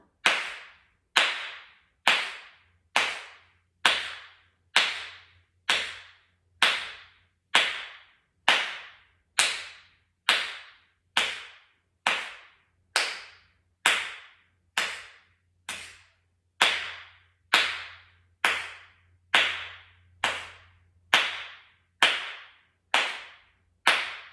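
Hand claps during a yoga breathing exercise land in a long, even series of about thirty sharp, close claps, each followed by a brief pause, with no talking.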